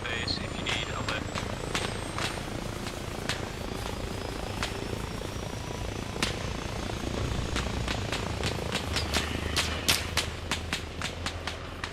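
Helicopter in the video game Arma Reforger, a steady low rotor drone running throughout under talking voices, with a series of sharp distant gunshot cracks scattered across it, growing more frequent toward the end.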